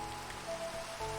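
Rain falls steadily in the video game Minecraft, a soft even patter of drops that runs unbroken for a brief moment.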